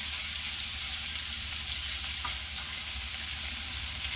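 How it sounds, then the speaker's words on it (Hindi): Finely chopped onion frying in oil, giving a steady, dense hiss and crackle that holds evenly throughout, close up with no talking. "इसमें मैं प्याज जो बारीक बारीक काटी हूँ उसे डालूंगी।"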